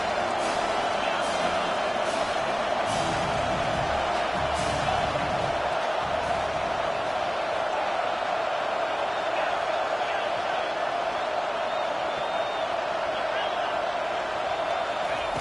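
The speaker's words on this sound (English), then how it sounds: "Decibels rising as the crowd gets behind this defense on 3rd down." A college football stadium crowd at Georgia versus Ole Miss roars steadily and loud on a third down, a sustained wall of cheering noise.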